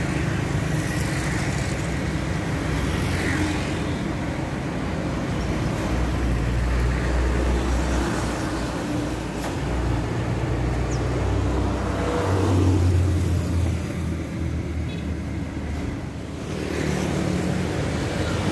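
Steady roar of toll road traffic in Indonesia with a large bus rumbling past at moderate distance, its low engine drone swelling and fading.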